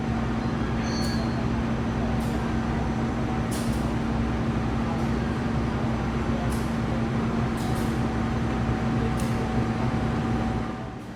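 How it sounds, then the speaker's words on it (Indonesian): A first-generation CC201 diesel locomotive, number 7701, arriving at a station at night, heard as a steady low engine drone with a sustained tonal hum and occasional faint clanks. "Ini dia lokomotif kereta api Progo baru mau masuk dan bakal langsung ditempel ya"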